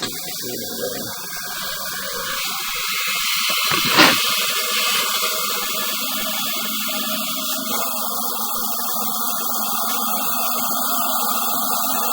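Water sprayed into a drain pipe to wash out a ball of tree roots gives a loud, steady hiss that runs throughout, over a low electrical hum, with one brief surge partway through.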